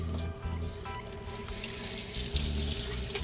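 Tap water runs steadily into a sink while white crabs are rinsed beneath it, a close continuous splashing flow with small shifts as the stream hits the shells.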